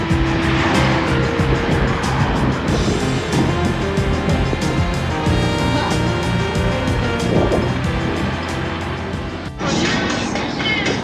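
A car rolls slowly along a road in Balochistan, Pakistan, producing a loud, steady engine drone with road and wind noise that continues without a break, then briefly lightens near the end.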